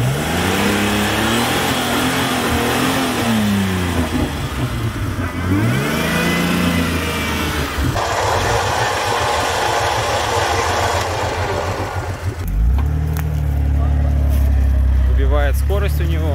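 Jeep Wrangler TJ stuck off-road in spring, its engine revving hard and continuously, pitch rising and falling, with a deeper surge near the end; close and loud.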